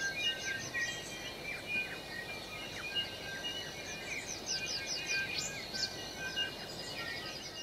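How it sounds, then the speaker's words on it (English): Native birds calling in the bush on Kapiti Island, New Zealand: several overlapping chirps and whistled phrases, moderately distant, over a soft, constant hiss of wind or foliage with no talk. "The bush and the bird life, the sounds extraordinary."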